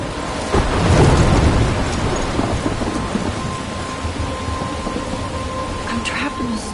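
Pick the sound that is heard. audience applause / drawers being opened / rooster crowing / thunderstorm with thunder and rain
thunderstorm with thunder and rain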